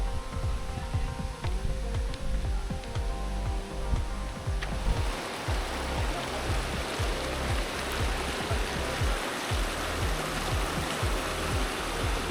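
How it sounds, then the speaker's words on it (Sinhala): A small, not very tall waterfall in Galle, Sri Lanka, gives a steady, close rush of falling water, broad and continuous like a stream. It runs unbroken for the whole stretch, with no voices. "මේ ඇත්තටම එච්චර උස ඇල්ලක් නෙවෙයි"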